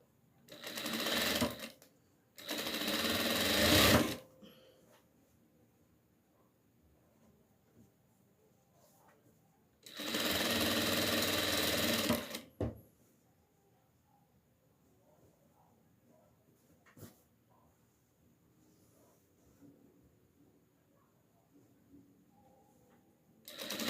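A sewing machine runs in short close bursts while backstitching the seam of a small fabric hat for a rag doll: three loud whirring runs separated by quiet handling.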